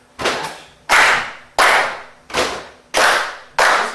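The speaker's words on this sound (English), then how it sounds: "everybody do this together. It's called patch, clap, clap." Body percussion in a patch, clap, clap pattern rings out in a music theory workshop: sharp, loud hand slaps and claps recur at an even pace, each with a short ringing tail, and no one talks over them.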